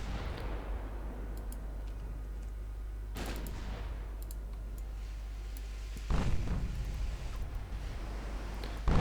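Warship gunfire in Ultimate Admiral Dreadnoughts, a few heavy booming salvos spaced several seconds apart, each with a rolling tail, over a steady low rumble of the sea battle.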